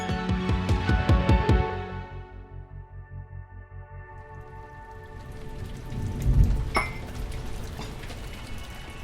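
Rain falling on a January day in England, a steady patter over soft musical tones, with a low rumble of thunder swelling midway.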